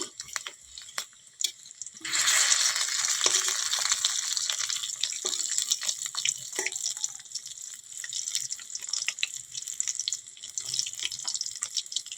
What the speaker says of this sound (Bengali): দেখো লাল লাল করে ভেজে নিচ্ছি